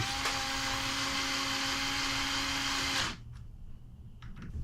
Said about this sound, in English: Let's run in the screws.